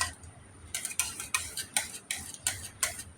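A utensil stirs palm fruit pulp in a pan, giving about eight sharp, evenly spaced scraping clicks close by over a few seconds, with no voices.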